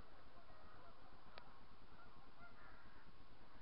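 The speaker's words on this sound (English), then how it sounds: "Sounds like a loud nasal repetitive honking noise." Canada geese honk on the water at a Scottish wildlife reserve, faint and distant nasal calls barely rising above a constant wash of outdoor background noise.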